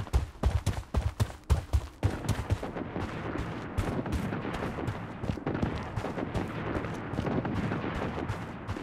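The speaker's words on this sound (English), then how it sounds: "Missile bombardment on its way." Missile bombardment in the shooter video game Blood Strike: a quick run of sharp, loud blasts and shots, followed by a dense, continuous roar of rumbling explosions and gunfire that carries on steadily.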